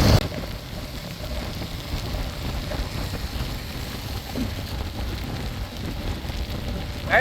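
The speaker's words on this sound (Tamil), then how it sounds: "சென்னைக்குள்ளே என்ட்ரி ஆனதுமே மழை பெய்ய ஆரம்பிச்சிருச்சு" Steady rain falling during a ride on a Royal Enfield Classic 350 entering Chennai, a constant broadband hiss with faint road and wind rumble beneath, no talk.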